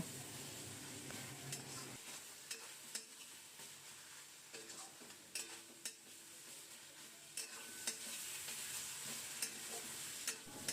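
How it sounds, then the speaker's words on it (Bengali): Ground coriander and cumin are sautéed into a wet spice paste in a wok for a duck egg and potato curry, making a continuous sizzle broken by repeated sharp spatula scrapes and taps against the pan. "এখন এই গুঁড়ো মশলাগুলো বাটা মশলাতে ভালো করে কষিয়ে নেব"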